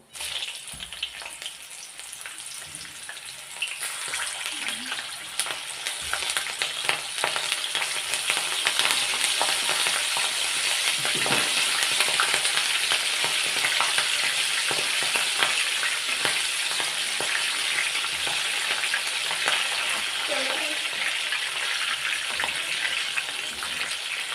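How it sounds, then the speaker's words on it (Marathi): Green chilies deep-fry in a pan of hot oil, a dense steady sizzle and bubbling that holds loud and even from start to finish. "मस्त तोंडी लावायला आपण मिरच्या तळून घेऊया"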